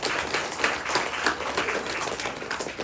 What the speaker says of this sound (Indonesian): silakan beri aplaus pada mereka.